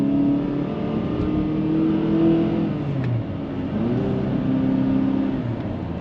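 A 2014 Honda Accord EX-L Coupe engine hums steadily, with its pitch rising and falling as it revs, loud and close throughout with no voices.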